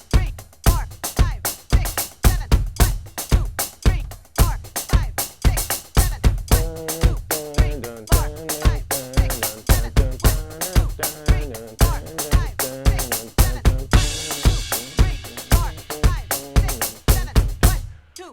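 Drum kit groove in 7/4 at 113 bpm, steady single strokes on the hi-hat and quarter notes on the kick with an extra kick at the end of each bar, with a snare backbeat. It repeats loud and close throughout, with no talking over it.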